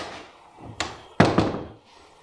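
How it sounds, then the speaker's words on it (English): A heavy wooden door with a round wrought iron handle swings shut, a softer knock followed by a loud solid thunk and a short rattling settle, close by in a quiet room. "That is a heavy door, isn't it?"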